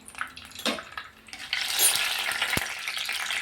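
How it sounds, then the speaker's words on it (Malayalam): A quarter teaspoon of fenugreek seeds dropped into hot oil for a fish curry, a bright steady sizzle that swells after a clatter and runs close and continuous to the end, with no talking. "ഒരു 1/4 ടീസ്പൂൺ ഉലുവ ഇട്ട് കൊടുക്കാം."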